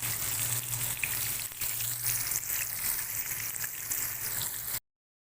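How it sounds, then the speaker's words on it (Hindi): Potatoes and eggplant fry in a pan with a steady, dense sizzle that holds close and loud for about five seconds, then cuts off abruptly, with no talk. "अब हम लोगों ने बैंगन को भी इसी तरह फ्राई कर लेना है"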